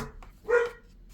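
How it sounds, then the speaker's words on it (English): A dog gives one short bark from some distance off, a clear single burst in an otherwise quiet room. "Dog barking, you know how it is."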